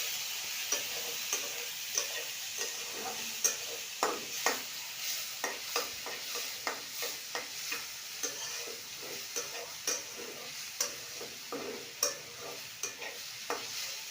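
Red lentils (masoor dal) being stirred and fried in a pan, with steady soft sizzling and a regular series of spoon scrapes and taps close up, no talking.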